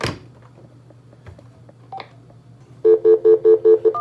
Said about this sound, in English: Yep, I'll dial 1XXXXXXXX.